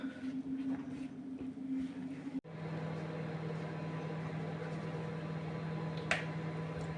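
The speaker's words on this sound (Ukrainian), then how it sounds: "поставила мікрохвильовку розтопити маргарин" A microwave oven melting margarine runs with a steady low mechanical hum throughout, with a brief cut partway and a faint click near the end.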